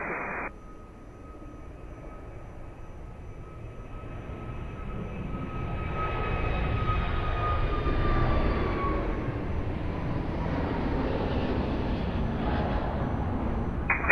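An airliner lands at Lisbon Airport, a steady engine roar with a whining tone that builds and grows louder near the middle, then stays as a broad rumble.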